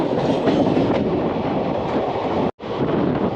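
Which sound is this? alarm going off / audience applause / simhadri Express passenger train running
simhadri Express passenger train running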